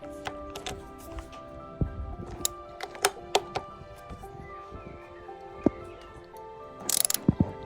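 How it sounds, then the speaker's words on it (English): Brake caliper bolts on a BMW R1250 GS motorcycle are undone with a ratchet, producing scattered sharp metallic clicks and taps that are fairly quiet, with a short burst of louder clatter near the end. "Just undo the 2 bolts on the caliper."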